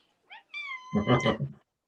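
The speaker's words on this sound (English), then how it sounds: "Be quiet, cat." A house cat meows once, close and clear, a rising then drawn-out cry lasting about a second, alone in a quiet room.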